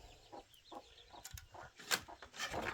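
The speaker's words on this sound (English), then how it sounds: "And the little mama hen here," Mother hen on a farm with young chicks, soft scattered clucks in an irregular rhythm, close and fairly quiet with no talk.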